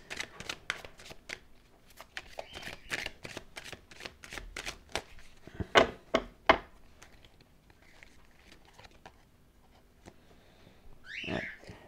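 Playing cards shuffled by hand during a tarot-style reading, a close, soft run of quick riffling flutters and light slaps with brief pauses, fairly quiet throughout.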